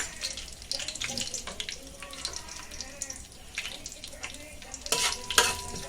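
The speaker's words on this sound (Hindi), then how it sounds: "ये देखो, अभी घी पिघल गया। अभी ये गरम मसाला डालेंगे, और इसमें साजीरा है" Garam masala and shahi jeera sizzle and crackle in melted ghee, a light frying hiss with clinks and stirring scrapes of a spoon in the pan, moderately close, with no talking.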